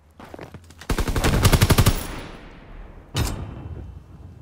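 Gunfire in Call of Duty: WWII, a close, loud rapid machine-gun burst that fades out, followed by a single sharp shot, with no voices.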